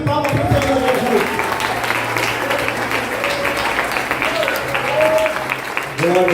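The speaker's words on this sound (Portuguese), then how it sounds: "Dê uma linda salva de palmas para o Senhor Jesus" A church congregation at an Easter service claps for Jesus, a dense sustained round of applause mixed with voices and some tonal sound, loud and continuous before fading slightly at the end.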